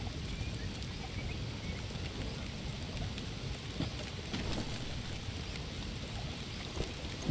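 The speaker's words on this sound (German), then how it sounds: "Ich hoffe, das ist okay mit dem Regen." Steady rain falls in the survival game Green Hell as a constant, dense hiss of drops with occasional soft patters, continuous and fairly close throughout, with no voices over it.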